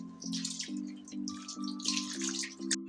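Tap water runs steadily over fried potatoes being rinsed in a kitchen while making aloo chaat. It makes a close, continuous splashing hiss with a faint steady tone underneath and no talking.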